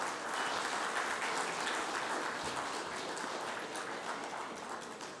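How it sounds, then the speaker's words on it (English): A large audience applauds at the inauguration of the ISUW 2025 conference and exhibition. Thick, continuous clapping holds at an even level throughout, easing off only slightly near the end. "let's give a big round of applause as we commence this remarkable event"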